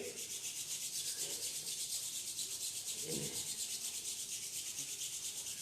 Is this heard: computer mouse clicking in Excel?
no